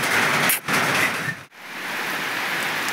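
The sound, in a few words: heavy rain with big drops drumming on a tin roof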